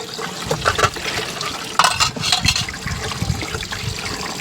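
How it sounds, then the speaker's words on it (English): Water splashes and gurgles into a sink, running steadily with uneven bubbling and trickling close by, filling it to hold divided hardy water lilies. "we'll just add some water in the sink and leave them set"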